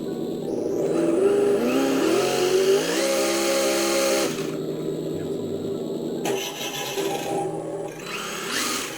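An engine sound kit on a Losi 22S RC car plays an old Model A-style engine: a rough, grinding mechanical whir rising and shifting in pitch, then a buzzier rattling tone halfway through, steady and fairly loud.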